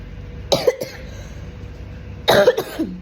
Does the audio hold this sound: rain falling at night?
no